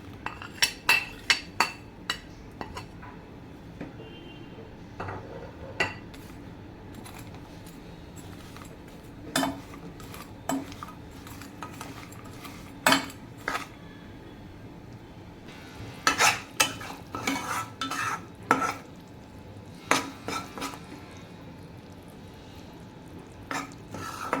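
A spoon scrapes and clinks against a pan as jaggery melts in ghee, with sharp intermittent metallic knocks over a faint low sizzle, clustering into busier bursts in places.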